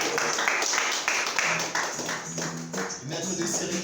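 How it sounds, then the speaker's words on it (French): Audience at a ceremony clapping throughout, steady and fairly loud, with voices speaking underneath and over the applause. "On va applaudir"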